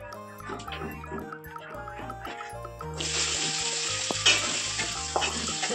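Chicken biryani masala frying in a pot as cashew paste is added, soft clinks and stirring at first, then a loud bright sizzle bursts up midway and keeps hissing steadily with scraping spoon strokes.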